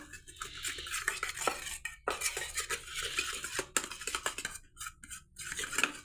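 A spoon clinks and scrapes against a bowl while Vaseline is stirred into a home remedy for cracked heels, a steady run of close, busy metallic tapping with brief pauses.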